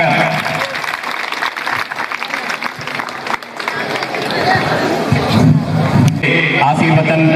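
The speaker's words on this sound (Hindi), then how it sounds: "आज के अतिथि जवाहर नवोदय विद्यालय बीगोन एटा में स्वागत स्वीकारते हुए जोरदार तालियों से स्वागत।" Loud applause and crowd noise rise for a guest being welcomed at a Jawahar Navodaya Vidyalaya alumni meet in Etah, with a speaker's voice carried under the clapping.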